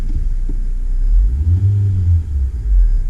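A 2016 Honda Civic engine idles with a low rumble, then revs up smoothly and loudly before settling and rising again, heard from close by with no talking.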